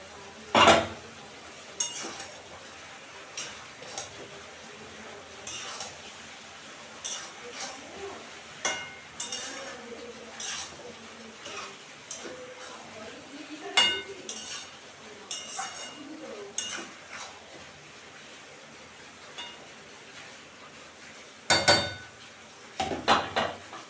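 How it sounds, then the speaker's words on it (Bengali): Prawns cooking with bottle gourd in a pan, a soft background sizzle broken by scattered clinks and scrapes of a utensil against the metal, with a louder clatter near the end. "তো বন্ধুরা এখন আমি চিংড়ি মাছগুলো দিয়ে দিলাম"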